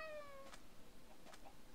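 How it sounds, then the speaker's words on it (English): A cat in the Minecraft Mo Creatures mod gives one short, faint meow that falls in pitch, set against a steady low background hum. "Come here, kitty cat."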